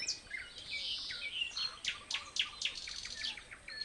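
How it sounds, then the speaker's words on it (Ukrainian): Nightingales sing faintly in the distance, a mix of whistled phrases and rapid chirps over quiet outdoor background. "скоро з'явиться солов'ї. А ось і вони."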